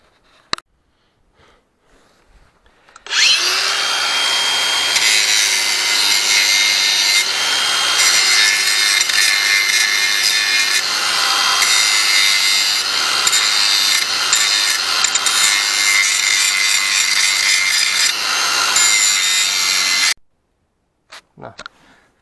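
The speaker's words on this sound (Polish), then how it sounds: "tutaj teraz oszlifujemy ten tutaj spaw, żeby jakoś to wyglądało po ludzku" An angle grinder works a weld on an Ursus C-360 tractor, a loud continuous abrasive whine with scraping texture that runs steadily for about seventeen seconds, starting abruptly after a brief quiet and cutting off near the end.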